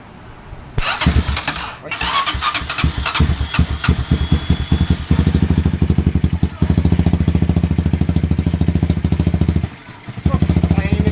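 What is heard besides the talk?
Honda XR200 motorcycle engine starting and running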